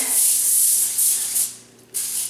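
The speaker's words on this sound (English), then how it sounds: "we're going to spray" Bright aerosol spray of coconut oil hissing onto a cookie sheet in close bursts, a long spray, a short one, then a pause before a final burst.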